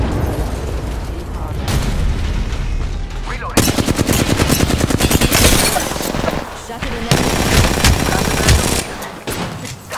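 Gunfire from the video game Apex Legends: loud, dense automatic bursts with rapid rattling shots and booming impacts, stopping and restarting several times, with brief speech mixed in.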